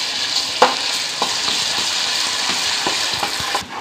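Ginger garlic paste fries in a pan with a continuous close sizzle, punctuated by sharp scrapes and taps of a spatula stirring at irregular intervals, no voices.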